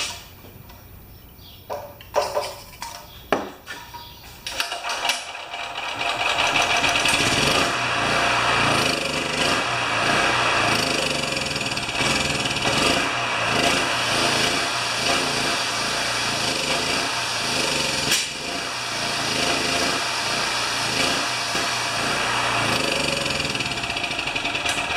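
A Champion generator engine is pulled over with a few sputtering attempts, then catches and settles into a steady, loud, continuous running drone that holds for the rest of the span.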